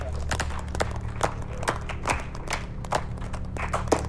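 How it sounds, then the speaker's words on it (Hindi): Office-contest audience applauding for William after a product-idea win, a loose burst of hand claps with irregular sharp slaps over a low background hum, moderately close and without voices. "विलियम के लिए तालियां बजाइए"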